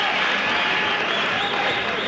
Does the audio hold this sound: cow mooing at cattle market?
no